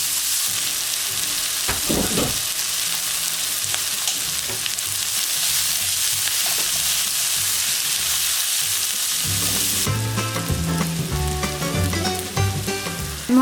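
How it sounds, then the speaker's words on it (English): Onions and garlic sizzle steadily in a pan, a dense continuous frying hiss that runs for the whole stretch, with scattered stirring scrapes and a brighter, busier sizzle near the end; no one speaks. "I'm going to start cooking my onions and garlic."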